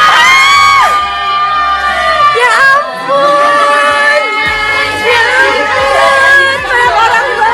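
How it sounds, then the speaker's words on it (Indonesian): Friends burst into joyful shouts and cheers at a surprise for a bride-to-be, a loud, close crowd of overlapping excited voices and whoops rising and falling throughout. "sesaat setelah ia membuka pintu, suara teriakan kegembiraan terdengar"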